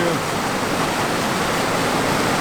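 Fast-moving stream water rushing steadily, a loud dense broadband roar close to the microphone with no pauses or voices.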